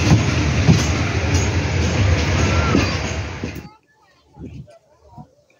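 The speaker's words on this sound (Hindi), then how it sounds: "हम रेलवे स्टेशन पत्तों की पहुंच चुके हैं।" Railway station at Pattoki with a train rumbling loudly and steadily, then cutting off abruptly into quieter ambience with scattered sounds and a voice.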